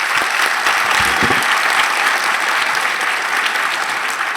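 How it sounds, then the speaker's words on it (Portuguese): A large audience at a 2024 conference on digital influence and leadership bursts into dense, sustained applause that fills the whole stretch at steady loudness, with no voice rising above it. "Salva de palmas para o Érico."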